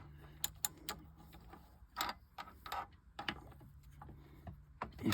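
A socket wrench ratchets while adjusting the rear band of a Torqueflite transmission, giving short bursts of clicking with faint metallic taps in between, close and quiet, without talk.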